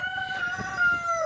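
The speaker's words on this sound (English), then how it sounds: "Apologies for the wind and the cockerels." A cockerel crows in one sustained, clear call, with wind noise rumbling underneath at an allotment garden in Britain.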